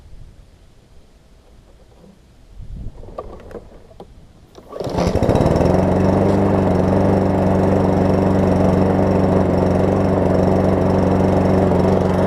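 A Husqvarna AWD push mower being cranked: quiet handling noises, then the engine catches and settles into a loud, steady, close running drone, with no talking.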